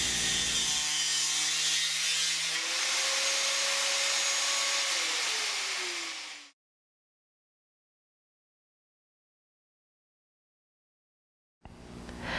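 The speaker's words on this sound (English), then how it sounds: "hold the angle grinder firmly with both hands" Angle grinder cutting a 45-degree line through metal U-channel edging, a loud steady high-pitched grinding whine with a gliding tone for about six seconds, then silence before it starts up again at the end.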